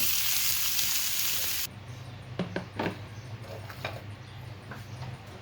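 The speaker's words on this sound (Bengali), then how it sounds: "এটাকে আমি হালকা পেঁয়াজ দিয়ে তারপরে একটু তেলে নিচ্ছি" Onion sizzles in hot oil for a Bengali bharta, a bright steady frying hiss that drops suddenly to a quieter crackle with scattered pops and ticks, close up.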